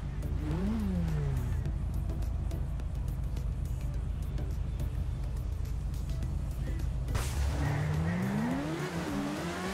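GTR sports cars race in the video game GTA 5, with engines revving up and down at full throttle, loud and close throughout, and a shift in engine pitch near the end.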